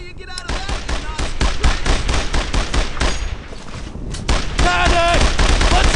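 Heavy gunfire in the World War II shooter Brothers in Arms: Earned in Blood, with dense, loud bursts of rifle and machine-gun shots crackling almost continuously, a brief lull, then more firing mixed with shouting voices.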